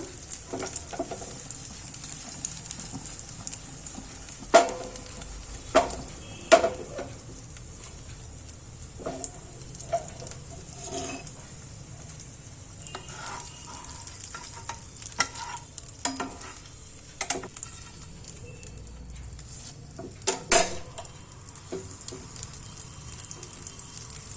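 Half-fried potatoes for crispy tacos cook on a hot tawa, with a faint steady sizzle broken by irregular scraping clicks and knocks as a spatula turns them, close by and without talk.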